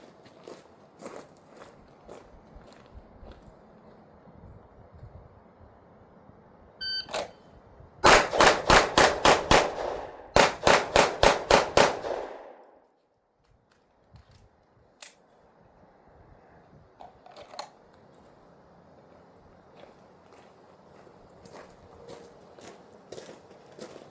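Pistol shots in a 7-yard Bill Drill ring out in two quick bursts of six sharp cracks each, loud and evenly spaced, with quiet movement and faint shuffling around them.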